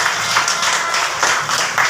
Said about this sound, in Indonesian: Sip, ada tepuk tangan.